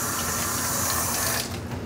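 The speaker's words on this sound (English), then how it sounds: "faucet water." Water gushes steadily from a faucet in a loud, continuous rush that eases slightly near the end.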